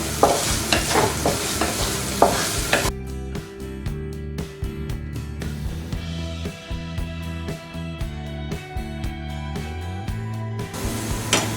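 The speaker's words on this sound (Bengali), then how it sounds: "এবার আমি এর মধ্যে পেঁয়াজ কুচি দিয়ে দিব লবণ দিয়ে দিব যাতে পেঁয়াজটা তাড়াতাড়ি বাজা হয়ে যায়" Chopped onions with salt sizzle steadily in a pan for a beef tehari, with frequent scraping stirs close by and soft music playing underneath.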